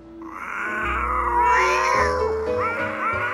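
A cat's drawn-out, wavering meows, loud and close, two or three cries in quick succession with no talking.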